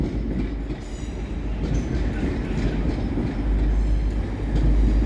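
A Class 185 TransPennine train arrives at Stockport station, a loud, close, continuous low rumble of wheels and engine with faint rhythmic clatter building slightly as it pulls in.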